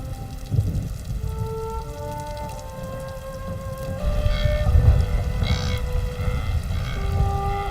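Rain falling on open grassland plains, a steady dense patter throughout, joined by distant animal calls and sustained tonal sounds layered over the rainfall, with no speech.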